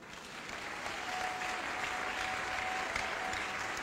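Church congregation applauding steadily for the Lord during a pastor's sermon, a dense, even wash of clapping that holds at a constant level for the whole stretch.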